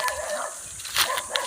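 Dogs bark and yip nearby in a couple of short, sharp outbursts amid whimpering and background noise.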